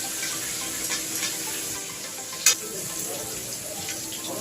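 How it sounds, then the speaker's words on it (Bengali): Potatoes fry in hot oil for a mutton curry, giving a steady, moderately loud sizzle with one sharp clatter about halfway through, and no one speaks. "এবার আমি আলুগুলোকে লাল লাল করে ভেজে নিই"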